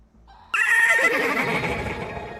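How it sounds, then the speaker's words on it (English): A loud horse whinny from an ARC Raiders video game stream bursts in after a brief quiet start, with a shrill, wavering call that slowly trails off. "Star Horse needs to be a little louder"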